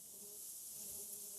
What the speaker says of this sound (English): Some bees or something going in the studio.